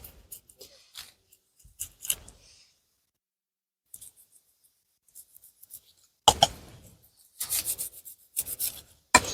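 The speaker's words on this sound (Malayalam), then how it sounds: "ചെതുമ്പല് മാത്രം കളഞ്ഞാൽ മതി, ബാക്കി ഞാൻ കട്ട് ചെയ്തോളാം." Fish being descaled by a riverside, with short bursts of scraping and rasping strokes that come in clusters separated by quiet gaps and grow louder and denser toward the end, heard close up.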